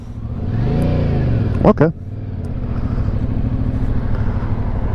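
Yamaha MT-07 motorcycle engine accelerating, a steady mid-pitched drone rising in revs, close and loud, with a brief spoken word over it.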